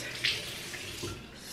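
Water splashing from a tap at a sink as someone washes their face, a short close splash near the start and a softer rush later, with no talk.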